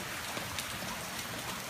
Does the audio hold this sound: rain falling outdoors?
yes